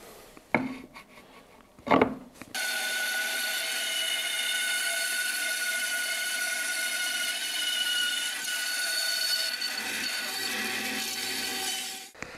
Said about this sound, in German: Jetzt wollen wir das aber erstmal rund sägen.